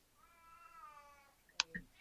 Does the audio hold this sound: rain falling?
no